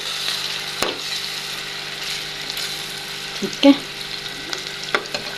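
Egg is stirred in a frying pan with onion for an egg curry, a soft ongoing sizzle with a few scraping clinks of the utensil against the pan, and a person briefly speaks.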